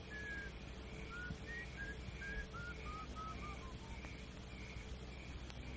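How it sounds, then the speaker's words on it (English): A man whistles a short, wandering tune of rising and falling notes, faint and a little distant over steady outdoor wind noise, with no talk. "Keep whistling"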